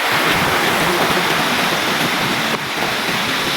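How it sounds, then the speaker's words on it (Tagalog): A river in Buscalan, Tinglayan, rushes close by in a steady, loud hiss of flowing water that continues evenly throughout with no voices. "Yan, nandito tayo sa may ilog"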